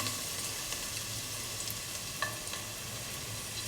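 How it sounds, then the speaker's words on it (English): Shallots frying in ghee for a semolina kheer give a faint, steady sizzle, with a single clink partway through. "Now put in the shallots into the ghee"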